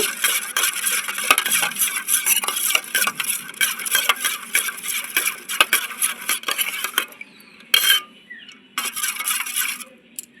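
An egg mixture being stirred with mustard oil for dim bhapa: rapid, steady scraping and clinking of a spoon against a bowl, close and busy, with brief pauses near the end and no talking.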